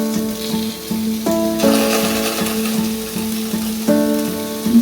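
Mustard and ginger paste fries in a hot pan, a loud, close, continuous sizzle with stirring scrapes and a steady tonal hum underneath.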